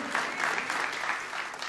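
A church congregation gives a sustained round of enthusiastic applause after a sermon, a dense, even wash of many hands clapping at once throughout.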